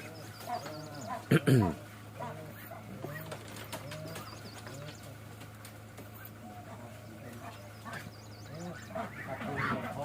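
Ducks quack and honk, one loud burst up close followed by scattered calls, while people talk in the background.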